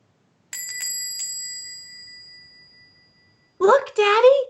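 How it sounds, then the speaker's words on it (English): A small bell rings a few quick dings that ring on and fade slowly, followed by a voice speaking, in a long-distance adaptation of It's A Wonderful Life. "every time a bell rings, an angel gets his wings"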